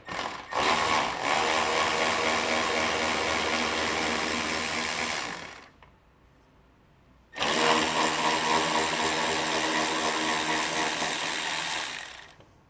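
Bolts come out from under a 2024 Ford Escape with a 10mm driver, heard as two long, loud, steady mechanical whirring bursts of about five seconds each, separated by a short quiet pause.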